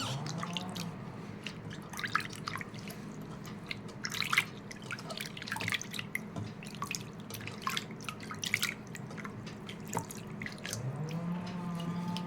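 Water runs and drips steadily as hands are rinsed, with soft splashing and occasional wet squelches, close by and moderately quiet.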